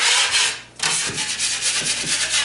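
Sanding down a second coat of drywall mud by hand: a loud, continuous close-up scraping rub in rapid back-and-forth strokes, with a brief pause partway through.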